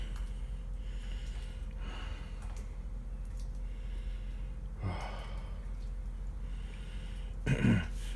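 Someone sits breathing heavily after walking around. There are a few loud, sharp breaths and snorts at intervals over a low, steady background hum, with no talking.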